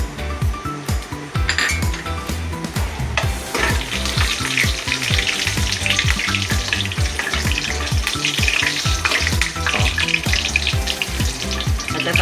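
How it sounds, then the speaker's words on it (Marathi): Whole spices sizzle steadily in a generous amount of hot oil for a Konkani-style prawn biryani, a continuous close frying hiss with occasional clinks of a utensil against the pan. "तेल गरम झालं की आपण त्याच्यामध्ये सगळे खडे मसाले घालायचे"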